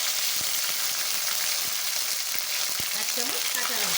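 Garlic paste fries in a pan with a continuous, bright sizzle, and a voice speaks briefly over it near the end.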